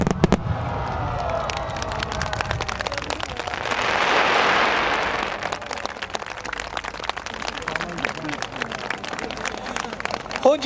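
Fireworks burst at the Omagari fireworks festival on the Omgawa riverbank, sharp crackling reports and pops in rapid succession, with a swelling hiss of crackle midway, while a crowd claps and voices murmur around.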